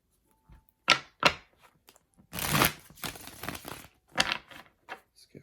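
Tarot cards are shuffled in several short, crisp bursts of riffling and slapping, with one longer flurry in the middle, close and clear with quiet gaps between.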